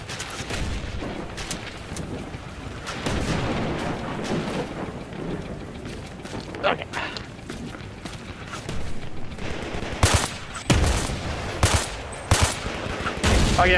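Sniper and rifle fire in the VR shooter Zero Caliber, with scattered distant shots early on, then a run of loud, sharp cracks near the end, under occasional talking.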